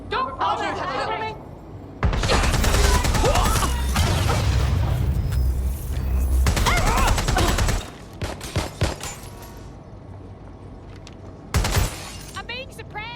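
Suppressive gunfire in the Watch Dogs Legion video game: loud sustained automatic bursts with shattering impacts, then scattered shots and a final burst, with voices shouting over the fire.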